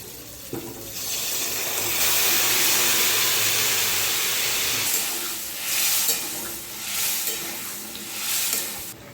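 Chopped squash tips into a pan of spice paste that is already releasing its oil, a loud burst of close sizzling and splashing that eases into bubbling with intermittent stirring and hissing.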